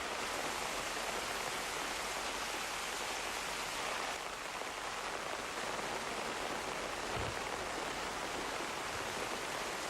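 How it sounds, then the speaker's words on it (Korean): Heavy rain pours down steadily on a Korean mountain temple, a dense, even hiss of drops with no pauses or voices. "유독 굵은 빗소리만 산사를 울린다"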